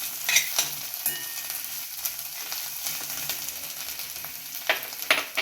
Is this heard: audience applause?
no